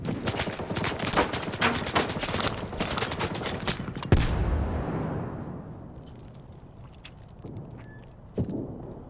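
Rapid bursts of gunfire in S.T.A.L.K.E.R. 2: Heart of Chornobyl crackle densely, then a loud grenade blast booms and fades into quieter scattered shots and a later thud.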